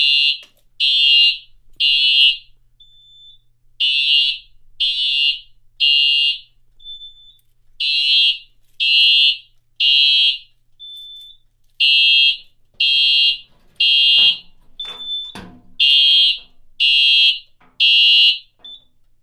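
Simplex conventional fire alarm panel sounding during a system test: loud, sharp electronic alarm tones repeating in steady short bursts with brief gaps, plus a few low thumps near the end, no talking.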